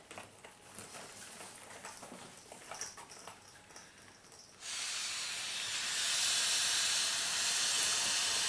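A hand pump pushes air through the larger nozzle into a chamber of a Crivit 297670 two-person inflatable canoe. After a quieter stretch, a steady, loud, breathy rush of air starts partway through, grows stronger and continues without a break.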